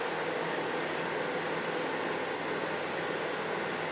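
A microwave oven hums at full 1000-watt power, a steady, even drone with a fan-like hiss that holds without change and without voices.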